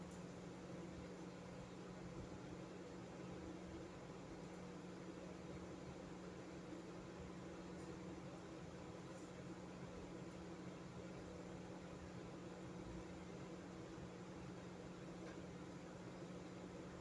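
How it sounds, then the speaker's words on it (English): A microwave oven runs with a steady, low, unchanging hum and faint airy noise throughout. "my microwave is making a bunch of fun sounds right now"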